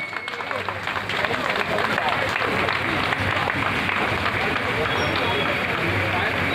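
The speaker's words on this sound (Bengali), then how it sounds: "একটু জোরে করতালি দিন" Audience at a neighbourhood club's Police Day celebration claps steadily and fairly loudly, a dense wash of applause mixed with crowd murmur that swells after the first second and carries on throughout.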